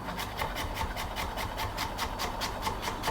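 A knife slices an ingredient thinly for air fryer Chinese crispy chicken, steady rhythmic cutting strokes on a board, about a dozen evenly spaced, close and quiet with no talking.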